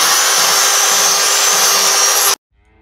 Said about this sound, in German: mache das jetzt mit der Feile noch ein bisschen flacher